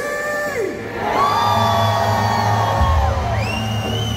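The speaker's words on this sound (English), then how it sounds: "Can y'all give me a scream?" A concert crowd at a show screams, whoops and cheers loudly, many voices rising and falling in long overlapping yells that fill the venue throughout.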